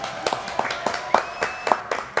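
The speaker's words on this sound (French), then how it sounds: "Applaudissements pour Philippe Coulange" Studio audience applause for a guest on a French talk show, heard as a brief run of distinct, fairly sparse claps in a regular rhythm, close and moderately loud.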